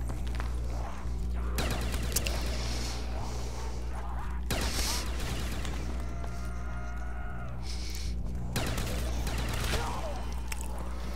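Minigun firing in an open world zombies shooter game, bursts of rapid gunfire with sharp loud onsets over a constant low hum, interspersed with footsteps and other game effects.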